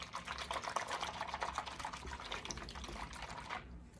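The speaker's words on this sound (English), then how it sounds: "Even look at if I agitate this water," Bath water stirred and agitated by hand, with foaming bath butter mixed in, giving a steady close splashing and sloshing that runs for several seconds before stopping abruptly.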